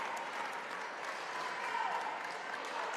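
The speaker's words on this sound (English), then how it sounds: "You can hear the big crowd for both Morton and Hickory Creek right behind us" A distant crowd of spectators at a 7th grade state-finals volleyball match between Morton and Hickory Creek makes a faint, steady murmur with scattered clapping, low in level and continuous throughout.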